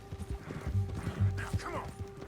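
Hooves of a horse in a video game clip-clop in a quick galloping rhythm, close and fairly soft, with a faint whinny and a voice murmuring over the steady beat.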